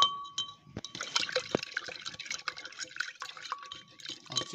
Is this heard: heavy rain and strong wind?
no